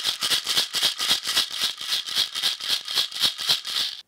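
A handheld rattle with balls inside is shaken steadily, giving a close, loud run of about sixteen even, crisp rattling bursts with no voices.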